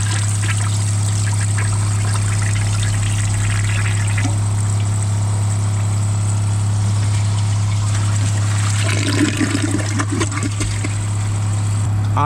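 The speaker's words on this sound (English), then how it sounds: "But let's see how it does on a second flush." A Kohler Wellworth Ingenium toilet runs a second flush on a clog, heard as a loud steady hum with water trickling and rushing, swelling toward the end.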